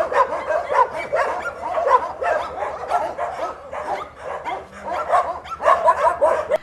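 Many dogs at an animal shelter barking and yipping together in a continuous, overlapping chorus, loud and close, with a few whimpers mixed in.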